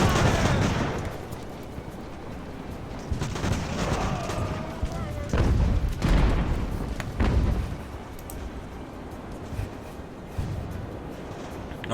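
Musket volleys crackle in a naval battle in the video game Ultimate Admiral: Age of Sail, with a dense, rumbling roll of gunfire and booming reports at mid-distance, continuous throughout.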